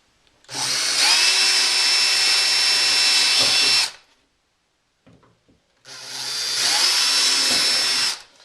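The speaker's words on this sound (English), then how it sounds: "or drill drainage holes" Two long bursts of a high-pitched power drill whining steadily through wood, drilling drainage holes in a cat shelter, separated by a short pause with faint knocks.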